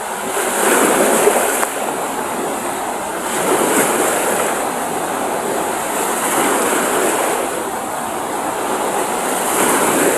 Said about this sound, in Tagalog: oh naglakihan ng mga alon guys oh